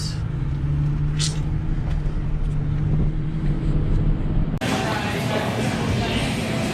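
Cars rolling out of a campground near Bartlesville and Dewey, Oklahoma: steady low vehicle rumble with wind noise on the microphone, growing rougher and louder after an abrupt cut partway through.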